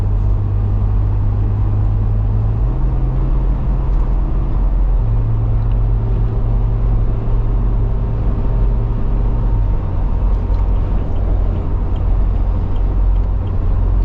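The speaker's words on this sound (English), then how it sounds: "So, wind noise, a little bit of buffeting here." Inside a custom Ineos Grenadier at speed, a loud constant rush of wind noise and low buffeting rumbles over a steady engine drone that shifts pitch a couple of times, with no voices.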